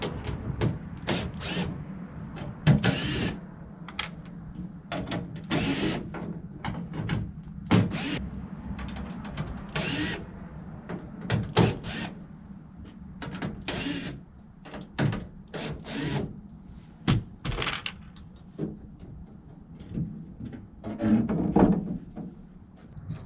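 A T30 Torx driver is worked to remove a rear interior panel on a 2016 Toyota Tundra, giving close, quiet rapid ratcheting clicks and plastic knocks and creaks in irregular bursts.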